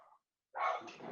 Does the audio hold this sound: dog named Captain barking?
yes